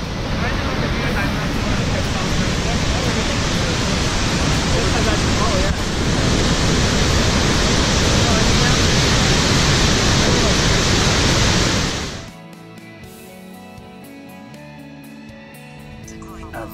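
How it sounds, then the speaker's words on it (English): A Yosemite waterfall roars as a dense, steady rush of blasting water, loud and close, filling everything until it cuts away abruptly to quieter background near the end. "I think we have some waterfalls."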